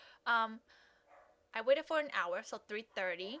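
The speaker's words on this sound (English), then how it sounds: "Sorry about my dogs. If you can hear them" A few dogs bark indoors, with one short yelping burst near the start, while a person talks over them for most of the stretch.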